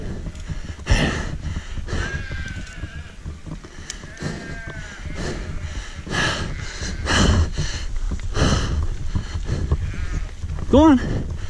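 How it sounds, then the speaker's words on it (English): Sheep bleating on a hillside trail of a mountain-biking ridge, several bleats near and far with snorts and rustling, a person talking intermittently, and one clear rising bleat near the end. "We got a little sheep party somewhere up here."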